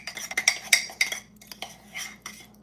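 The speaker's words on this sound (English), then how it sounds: "we're going to stir that in until it's smooth" A utensil stirs milk, melted butter and peanut butter in a bowl, making quick irregular clinks and scrapes against the bowl. The sound is soft and close with no voices.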